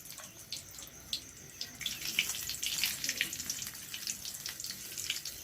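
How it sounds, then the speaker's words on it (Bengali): Cloves, cardamom, a piece of cinnamon, a bay leaf, panch phoron and dried red chillies frying in hot oil, giving a steady, close crackle and sizzle with bright spitting pops throughout and no voices. "ভালোভাবে তেলে ভেজে নেওয়া হচ্ছে।"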